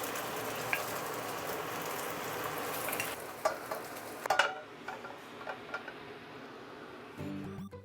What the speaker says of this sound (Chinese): 首先来个绝活，煎鸡蛋